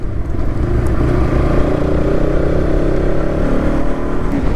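Motorcycle engine revving loudly while riding uphill, a rough, throaty roar rising and falling with throttle, close and dominant with no talking.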